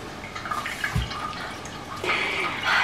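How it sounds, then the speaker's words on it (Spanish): A decorative indoor water fountain, just plugged in, trickles and splashes close by. Its continuous babbling water carries bright splashy bursts and a low gurgle. "Con tanto ruido de agua."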